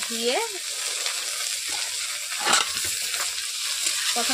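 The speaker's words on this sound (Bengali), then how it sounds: "পেঁয়াজ কুচো দেওয়ার পর আমি কেটে রাখা ঢ্যাঁড়সগুলোকে দিয়ে দিচ্ছি" Cut okra and chopped onion fry in a pan with a steady close sizzle and occasional stirring scrapes, no talking.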